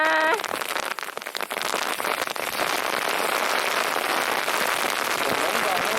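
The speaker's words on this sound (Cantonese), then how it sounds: "有落雹啦！" Hail pelts down during a hike in England, a dense, continuous crackling patter that starts right after a brief shout and holds loud and steady to the end.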